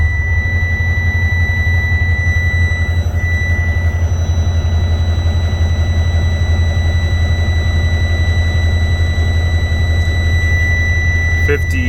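A 14-litre Detroit Series 60 turbo diesel in a 2006 Freightliner Columbia truck idles in cold weather, giving a loud, steady low rumble with a constant high whine layered on top, unbroken throughout.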